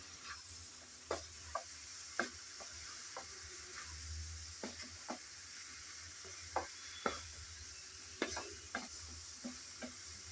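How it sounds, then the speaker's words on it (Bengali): Cauliflower curry with chopped coriander leaves stirred in a pan, a steady soft sizzle broken by repeated scraping clicks of the spoon against the pan at irregular intervals, close and fairly quiet, with no talking. "ধনেপাতা দিয়ে আবারও ভালোভাবে একটু নেড়েচেড়ে মিশিয়ে নেব"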